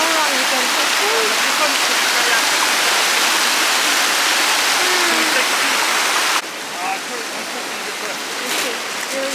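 Waterfall in Luang Prabang, Laos, roaring as a steady, loud broadband wash of falling water throughout, easing slightly in level toward the end, with faint voices in the background.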